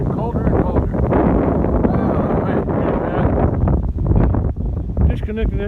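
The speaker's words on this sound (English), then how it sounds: "The wind keeps getting stronger and stronger and colder and colder." Strong, cold wind roars across an open pasture on a wet winter day, buffeting the microphone in a loud, constant rumbling gust with no letup.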